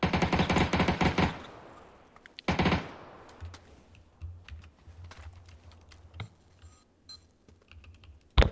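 Video game gunfire: bursts of rapid automatic shots at the start and again near 2.5 seconds, then scattered single cracks over a low steady background hum, close and loud.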